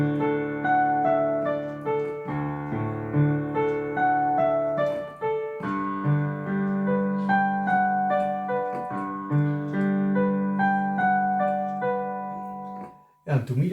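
Solo piano improvises in a Greek style over arpeggiated notes, with sustained chords and flowing melodic runs played close and clear, no voice present.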